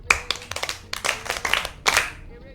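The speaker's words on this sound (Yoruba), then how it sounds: "Ó yá ẹ pàtẹ́wọ́ àwọn ẹnjìníà dáadáa" Hands clap together in ragged rounds for engineers at a Yoruba gathering: a few crisp single claps, then denser flurries that pause and start again, close by and fairly loud, with no clear speech.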